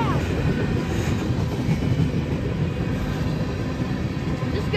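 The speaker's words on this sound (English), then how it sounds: "The train's already going past." A very long train rolling past at a road crossing, a loud steady rumble of wagons with faint rhythmic clatter from the rails, continuous and close throughout.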